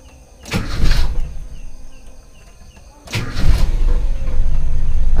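A hot Toyota Kijang engine is cranked by its starter in two loud bursts, the second catching and settling into a steady running idle close by.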